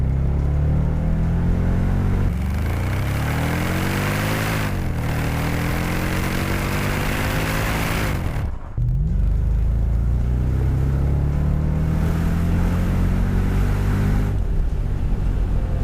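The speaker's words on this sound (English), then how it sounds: "I just love the V8 engine noise echo on my ride." A Mercedes SL55 AMG (R230) V8 drones steadily while driving, its note rising and falling through gear changes, with one brief dip as a shift happens, close and loud with no talk.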